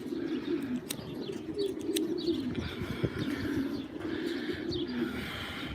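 A loft of pigeons, around twenty to thirty of them young one-year-old birds, keeps up a steady low cooing chorus with scattered chirps and a few soft wing flutters, fairly close and continuous.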